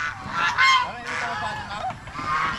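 Fenced farm ducks give a run of loud, nasal honks that overlap and recur through the short stretch, with no speech over them.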